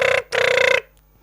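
A telephone rings in two short bursts of warbling electronic bell tone, loud and close, after a call is placed again, with a brief gap between them and silence afterward.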